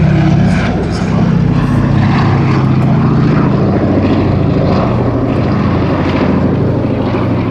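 A B-17G Flying Fortress bomber makes a loud, close pass at Duxford airfield, the continuous throb of its propeller engines filling the air while a commentator talks over it.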